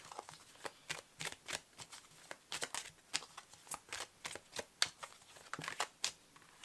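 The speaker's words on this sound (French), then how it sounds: "il faut que je remette les cartes dans le bon sens" Playing cards being handled and turned the right way round on a table, a rapid run of crisp papery flicks and slaps at close range with no talking.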